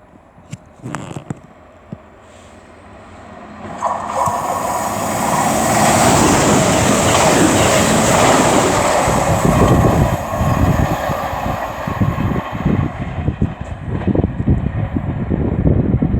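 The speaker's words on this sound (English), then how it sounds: "now approaching will be 221-130 for CrossCountry" A CrossCountry class 221 diesel train, 221130 from Glasgow Central to Plymouth, passes through Ashchurch for Tewkesbury station at speed. A rushing roar builds quickly and stays loud and close, with rail clatter running underneath, and nobody speaks.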